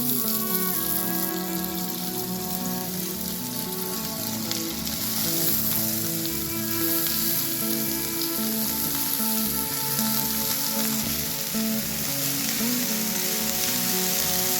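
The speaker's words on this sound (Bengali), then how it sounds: "তেলটা গরম হয়ে গেছে, এর মধ্যে ফুলকপি আর গাজরের কুচোগুলো আগে দিয়ে দিই।" Cauliflower and carrot pieces frying in hot mustard oil in a wok, a loud, steady sizzle and crackle that runs continuously without pause, with no talking.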